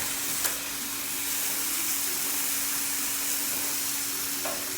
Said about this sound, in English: we got the steaks browning